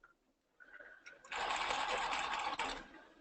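Sewing machine stitching a men's ballet tunic: a short whir starts, then a steady fast motor-driven stitching run of about a second and a half, close and clear in a quiet room.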